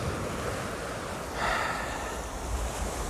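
Sea waves on a pebble beach, a continuous rushing wash with a brief swell of surf in the middle, mixed with wind noise on the microphone.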